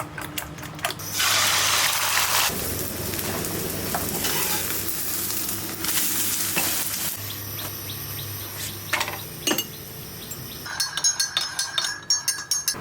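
Eggs fry with pineapple and coriander leaves in a pan, a steady close sizzle mixed with stirring and scraping, ending in a string of sharp clicks and clatters, with no voices.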